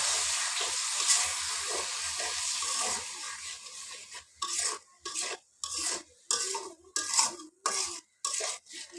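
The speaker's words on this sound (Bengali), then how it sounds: "অল্প পরিমাণ জল দিয়ে মশলাগুলো ভালো করে ভেজে নেব" Spices with turmeric, salt, extra chili and a little water fry in a pan: a soft sizzle at first, then a series of rhythmic spoon scrapes against the pan, spaced in short bursts.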